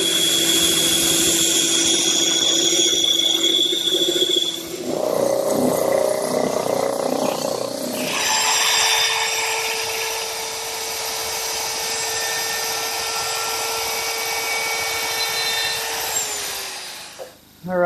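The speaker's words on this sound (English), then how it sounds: "I'll cut them on the bandsaw, drum sand them smooth, and route them with a chamfer" A bandsaw cuts small wooden brackets with a steady whine, then a drum sander smooths them with a louder, rougher grinding hum that runs unbroken before stopping abruptly.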